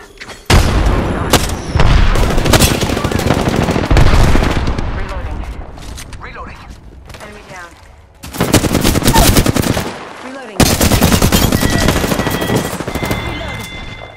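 SMG fire in the battle royale shooter Apex Legends: long, loud bursts of rapid automatic shots mixed with heavier booms, broken by brief pauses, with a voice talking over the action.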